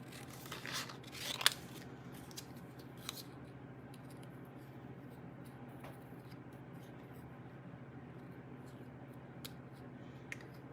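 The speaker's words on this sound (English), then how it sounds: "so I will take these blue scissors and I'm just going to cut." Blue scissors snip through paper in a quick cluster of close crisp cuts, then only sparse faint clicks follow in a quiet room.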